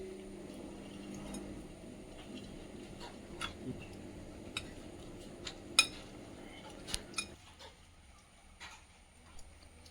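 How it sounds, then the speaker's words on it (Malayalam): Chicken caesar salad with sweet corn and bread is tossed in a bowl, producing faint, sparse clinks and taps of utensils against the dish over a quiet room background. "എല്ലാം ഇട്ട് മിക്സ് ചെയ്തെടുക്കുക."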